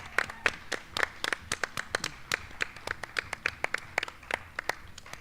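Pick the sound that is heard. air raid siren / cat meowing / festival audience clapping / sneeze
festival audience clapping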